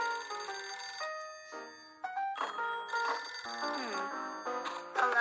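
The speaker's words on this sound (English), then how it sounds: "when the phone rang" A telephone rings at home in a cartoon, a bright electronic ringing with layered tones in several bursts, close and clear with no voices over it.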